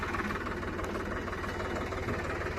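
A Sonalika RX50 tractor engine idles steadily throughout with a thudding, rhythmic chug, fairly close and loud, with no talking.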